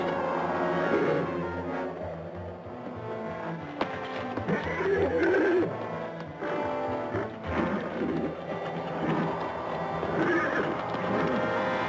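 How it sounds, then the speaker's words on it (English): Horses whinny and neigh near a livery stable in an Old West setting, several calls rising over a steady hooves-and-ambience bed with no speech. "Get the horses and put them in that old livery stable across the street."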